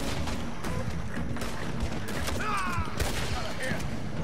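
Gunfire in the open-world western game Red Dead Redemption 2 cracks out in repeated shots amid a busy mix of game sound effects and voices throughout.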